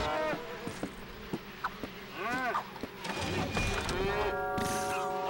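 Cartoonish cow moos and bellows from the Little Big Planet video game sound amid busy game effects and clicks, fairly faint and layered with other tonal sounds and swooping noises.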